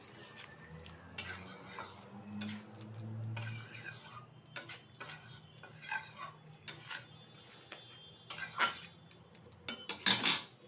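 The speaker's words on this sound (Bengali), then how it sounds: "ভালোভাবে একটু নেড়ে নিচ্ছি" A spoon stirs banana-flower curry in a pot after water and garam masala go in, giving faint, close clinks and scrapes against the metal in an irregular rhythm, sharper taps near the end, in a quiet kitchen.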